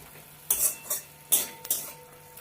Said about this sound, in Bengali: এবার খুন্তির আগা দিয়ে শাকগুলোকে একটু